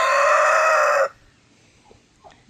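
A rooster crows loudly and close for about a second in a backyard farm run, followed by faint scattered clucks from the chickens.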